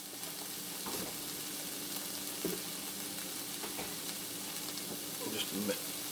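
Bean sprouts stir-fry in a pan for fried rice with a steady, even sizzle and hiss, broken by a few faint scrapes and clinks of stirring.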